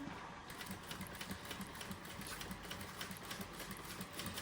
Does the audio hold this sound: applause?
no